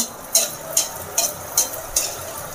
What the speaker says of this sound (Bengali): মালপোয়াটা তো এদিকে ভাজা হতে থাকুক